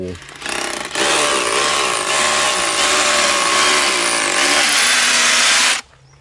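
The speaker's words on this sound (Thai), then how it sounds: "ตอนนี้ช่างกำลัง เจาะเหล็กนะครับ" A power drill bores into steel on a house construction site, a loud, sustained high-pitched whine that runs about five seconds before cutting off abruptly.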